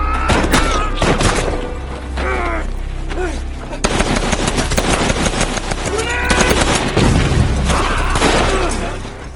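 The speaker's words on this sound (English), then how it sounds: "The only thing saving him right now is that machine gun." Sustained machine gun fire in a Pacific war film battle scene, loud and continuous rattling bursts with heavy booms and thuds mixed in, plus faint voices under the gunfire.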